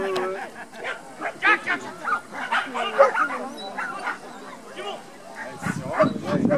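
A dog barks and yips repeatedly, in irregular bursts at moderate distance, with whimpering, while people talk nearby.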